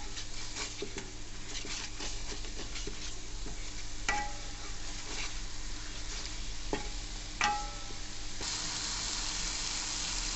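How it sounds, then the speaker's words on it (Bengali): Spices for khichuri frying and being stirred in a pan, a continuous soft sizzle broken by scraping stir strokes and a few sharper clinks of the spatula against the pot, fairly close and quiet. "এখন পুরো ভালো করে 5 মিনিট কষিয়ে নেব।"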